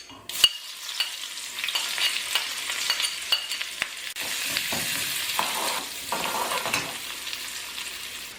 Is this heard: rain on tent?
no